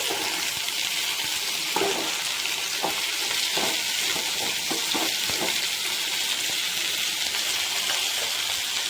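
Sliced onions fry in a hot pan for puff pastry filling, giving a steady, loud sizzle throughout while a spoon stirs them, adding soft irregular scrapes and taps beneath the hiss.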